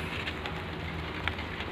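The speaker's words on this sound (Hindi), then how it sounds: "बारिश भी तेज हो गई है" Steady, dense hiss of heavy rain pouring down, with a few brief louder taps and splashes standing out.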